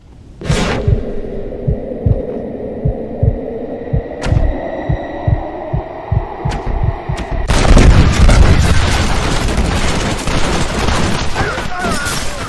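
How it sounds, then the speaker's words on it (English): Hail of gunfire from over a dozen men in Red Dead Redemption, a dense roaring barrage erupting after a tense stretch of low hum and thudding heartbeat-like pulses. "John goes down in a hail of gunfire and dies looking up at the sky."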